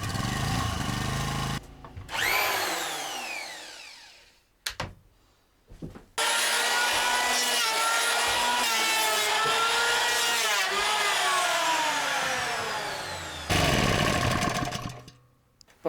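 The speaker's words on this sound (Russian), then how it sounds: "Построгал я доску рубанком." An electric hand planer, run from a petrol generator at a taiga log cabin, planes a wooden board in loud, close bursts of whining motor noise broken by short pauses.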